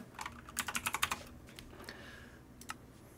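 A computer keyboard clatters in a quick burst of about eight keystrokes, followed by a couple of scattered clicks over a low steady hum, with no one speaking.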